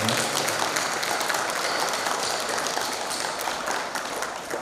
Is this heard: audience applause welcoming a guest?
yes